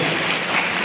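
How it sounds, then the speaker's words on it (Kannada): Applause from an audience at a workshop event fills a brief moment, a dense, even wash of many hands clapping with no voices standing out. "ಜೋರಾದ ಚಪ್ಪಾಳೆಯೊಂದಿಗೆ"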